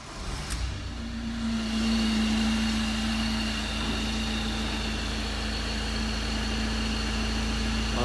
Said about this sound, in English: Start the van back up again.